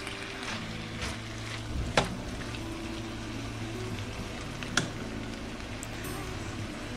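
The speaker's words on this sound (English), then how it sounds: "comes to browning up your ground turkey" Ground turkey browning in a pan, a steady close sizzle with a couple of brief utensil knocks and no talking.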